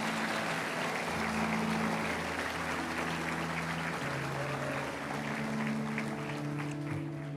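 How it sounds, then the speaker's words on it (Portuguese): Steady applause rises from a church congregation during an evening sermon, dense continuous clapping with sustained musical tones underneath and no speech. "dê uma salva de palmas a Ele"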